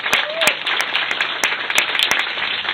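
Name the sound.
applause for Fernando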